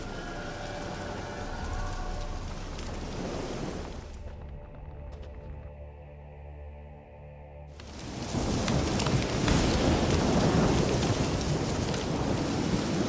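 Steady rain and rumbling thunder fill an outdoor storm in The Witcher 3: Hearts of Stone. The downpour drops away briefly to a quiet tonal stretch, then returns heavier and louder.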